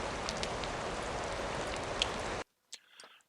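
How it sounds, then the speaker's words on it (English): Heavy rain from a Unity weather system, a dense steady hiss of downpour that cuts off abruptly, followed by a faint brief tail of softer sounds. "It's working. Heavy rain."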